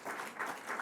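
Brief burst of steady applause from an audience at a ceremony giving awards to young Slovenian computer science competitors, a dense even patter at moderate distance.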